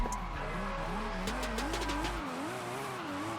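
Nissan R34 GTR tyres skidding through a donut in Forza Horizon 5, a loud, wavering squeal that rises and falls over a steady engine drone, then the engine note drops away, leaving the screech on its own.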